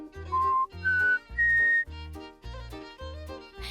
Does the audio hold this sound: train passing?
no